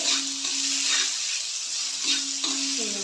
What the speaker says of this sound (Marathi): लसूण तळला ना त्याच्यामध्ये आपल्याला कांदा टाकायचा, तो तळून मग त्याच्यामध्ये डाळ टाकायची आहे